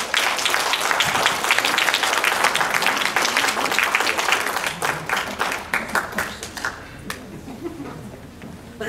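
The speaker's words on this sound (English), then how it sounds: "Please, a round of applause." An audience at a commemorative community event applauds after a dance performance, a dense, loud round of clapping that thins out and fades toward the end.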